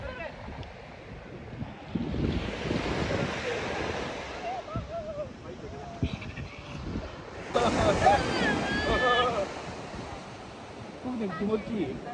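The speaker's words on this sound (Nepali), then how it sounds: "पानीको छालहरू एकदम आयो" Sea waves roll onto the shore along the Izu coast in Japan, swelling in two broad surging rushes with wind buffeting the microphone and people talking over the surf.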